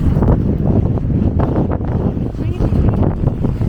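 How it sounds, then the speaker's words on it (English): Breezy seaside wind at Llandudno buffets the microphone in a loud, steady, low rumble that fills the whole stretch without pause. "It's got a bit breezy."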